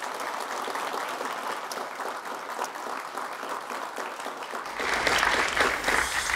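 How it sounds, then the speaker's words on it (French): Audience at a 2022 election debate applauds the candidates before it begins, steady broadband clapping filling the room for several seconds and swelling louder near the end. "je vous demanderais peut-être d'applaudir les candidats avant qu'on débute"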